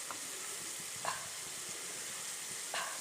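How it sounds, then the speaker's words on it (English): Onions sizzle faintly in a kadai with a steady, low frying hiss, broken by a couple of soft clicks of a stirring utensil. "You can see the onion is turning brown"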